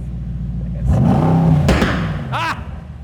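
A car engine with a newly fitted exhaust revs up, rising into a strong roar before settling into a deep idle rumble, with short bursts of talk over it.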